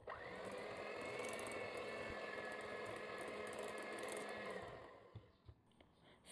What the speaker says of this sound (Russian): и взбиваем миксером